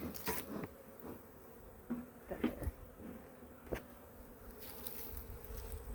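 Honey bees buzz around an open hive during an inspection, a faint, continuous hum with a few soft knocks and clicks close by.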